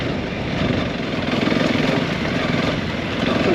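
An off-road motorbike engine runs steadily at a riding school trail, a continuous close mid-low drone with slight rhythmic pulsing and wind-like noise, no voices.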